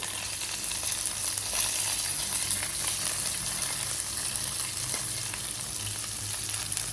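Dried red chili, green chili, ginger and curry leaves frying in a pan for coconut rice, a dense, even sizzle and crackle that holds steady and close throughout with faint stirring ticks.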